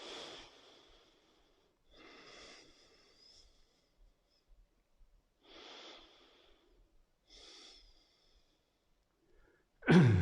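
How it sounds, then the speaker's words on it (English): Soft, deep breaths during a yoga class, slow airy inhales and exhales repeating in a quiet room, followed by a louder sharp breath at the end. "Soft, deep breathing."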